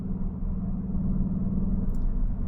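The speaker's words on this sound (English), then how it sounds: "there's quite a bit of noise in the car, and that is because the car is in Cupra mode" Steady engine drone inside a Cupra Leon cabin driven in Cupra mode on the Klausen Pass, a continuous low hum and rumble with no talk and no change in level throughout.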